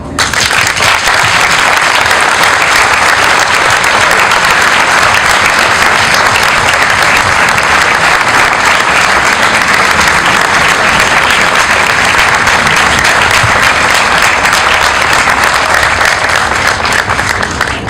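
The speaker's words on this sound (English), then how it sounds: "give him a really, really great round of applause" A town hall audience gives a long, loud, dense round of applause, many hands clapping steadily and evenly throughout without pause.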